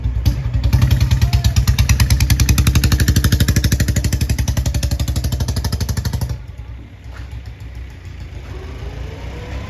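A Royal Enfield Bullet motorcycle engine roars loudly with a rapid, pulsing throb as the rear tyre spins in a burnout, then drops off abruptly to a lower idle rumble.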